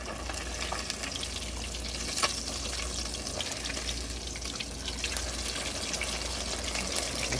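Trout sizzles steadily in a frying pan, a dense, even crackle that holds throughout at moderate volume, with a few sharper pops and a faint scraping texture.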